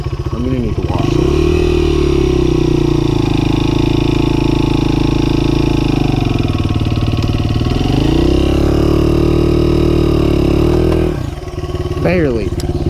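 Honda XR100R dirt bike engine running loud and close through a steady ride, holding a droning pitch with rises and dips as the throttle changes, then easing briefly near the end before picking back up.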